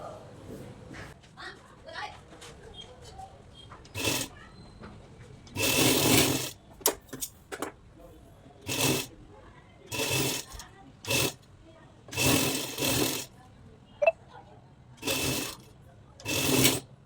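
A sewing machine stitches lining onto a blouse front in repeated loud bursts of whirring, separated by pauses, with someone talking quietly between runs.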